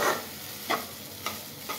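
Food with soy sauce being stirred in a frying pan, three distinct scraping strokes spaced roughly half a second apart over a faint steady sizzle, close and moderately quiet.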